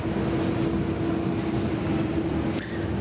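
A Qantas A380 rumbles at Sydney Airport as a steady, broad engine roar, continuous and moderately loud, with a faint thin tone sustained over it.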